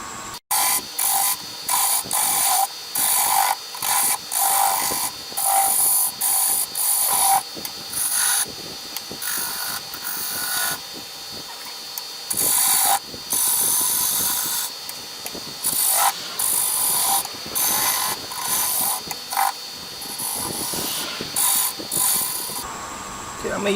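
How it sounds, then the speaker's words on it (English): A skew chisel cuts a spinning maple handle for a carver's mallet on a wood lathe, giving loud, continuous rasping and scraping in uneven bursts with brief pauses and no talking. "I'm going to use my skew chisel to start shaping the handle."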